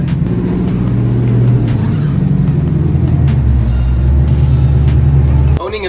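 An old Lamborghini being driven, its engine a loud, close steady drone that rises and shifts in pitch before cutting off abruptly near the end.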